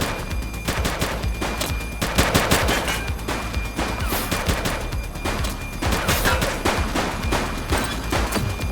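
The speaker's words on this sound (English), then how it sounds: "She's shooting!" Rapid bursts of gunfire from police officers in the video game The Precinct, loud sustained automatic shots and volleys across the whole stretch, layered dense and close.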